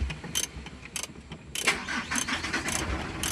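A Mitsubishi 4M42 diesel engine starts with one click of the key: a short crank followed by the engine catching and running with a steady mid-pitched rumble, close by and without talk.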